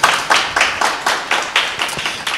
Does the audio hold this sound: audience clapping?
yes